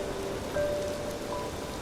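Heavy rain falls steadily at night, a dense continuous hiss of drops on surfaces with a faint tonal whine threading through, no voices.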